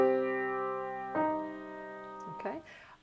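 Piano plays an excerpt of a theme: a sustained note rings and slowly fades before a few more notes are struck in quick succession near the end, moderately soft and close.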